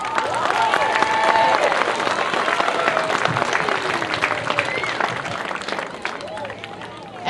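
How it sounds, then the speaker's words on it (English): A crowd applauds volunteers at an opening day pledge and dedication event, with steady clapping and a murmur of voices that hold strong through the stretch and ease off slightly near the end. "Please join me in applauding the efforts of these volunteers."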